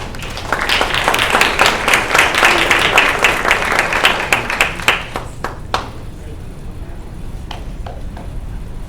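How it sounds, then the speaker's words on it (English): Crowd applause at a community school board meeting, steady dense clapping from many hands that thins out after about five seconds, leaving a few scattered claps in a quiet room. "Let's give them one round of applause"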